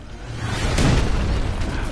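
Grenade blast in Titanfall 2, a single loud boom that swells and lingers as a dense rumbling burst with no voices over it.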